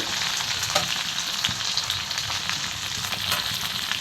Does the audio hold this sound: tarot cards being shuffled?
no